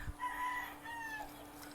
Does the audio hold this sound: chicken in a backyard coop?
yes